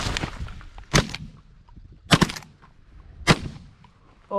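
Shotguns fire during a two-man duck and goose hunt, giving three loud, sharp blasts about a second apart, each with a short outdoor echo, and a faint call comes at the very end.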